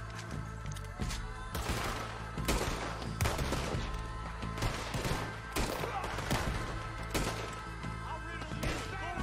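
Gunfire from the video game Red Dead Redemption 2, a rapid series of loud overlapping shots and impacts over steady game background sound, irregularly spaced across the whole stretch.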